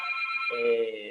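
A telephone rings during a Spanish-language medical lecture on tendon transfers, a bright electronic ringtone that shifts to a lower repeating tone partway through.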